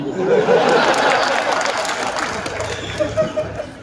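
Audience applause at a poetry recital during a festival, a broad crowd clapping mixed with chatter and laughter, loud at first and gradually thinning toward the end.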